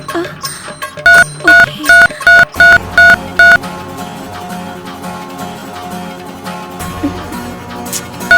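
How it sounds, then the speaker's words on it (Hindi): A phone number is dialed on a telephone as a run of seven loud, evenly spaced DTMF keypad beeps, each short and identical in length, standing out clearly over film background music. "अब मैं अभी उनको फोन करता हूँ।"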